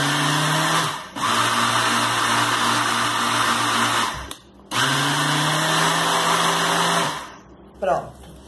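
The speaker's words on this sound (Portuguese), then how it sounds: "No liquidificador é bom, pessoal, porque fica mais envolvido com os ingredientes," An electric blender whirs loudly while mixing dry cappuccino powder ingredients, running in bursts with brief pauses between pulses and a winding-down pitch at the end.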